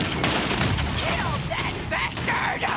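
Rapid bursts of gunfire in Red Dead Redemption 2, sharp cracks layered with shouting voices and chaotic in-game commotion.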